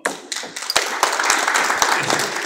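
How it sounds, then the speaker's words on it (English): A crowd at a community meeting applauds for Michelle, a short, dense patter of many hands with a few sharp individual claps standing out near the front. "let's give Michelle a round of applause"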